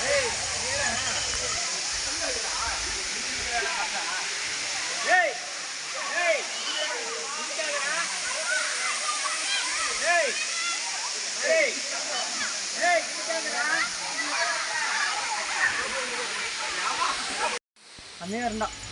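The Thusharagiri waterfall in Kerala roars as a constant broadband rush of falling water, close and steady, while people talk over it and the sound cuts off briefly near the end.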